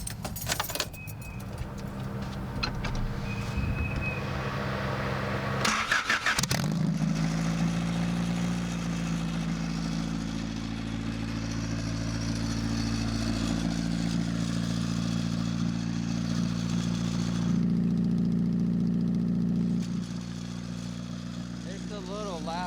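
Keys jingle and clatter, then a car engine cranks and catches with a loud burst. It settles into a steady, fairly loud idle drone that holds for the rest of the stretch.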